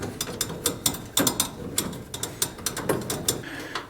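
A ratchet clicks in quick bursts while tightening bolts on a coolant overflow reservoir, with sharp close metallic clicks coming in short repeated runs and no talking.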